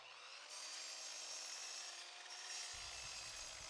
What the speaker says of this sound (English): With the miter saw, I cut 4 sections, each with a length of 41 centimeters.